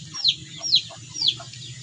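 Newly bought chickens on a small backyard farm give three short clucking calls at a steady spacing, fairly close, over a low continuous background hum.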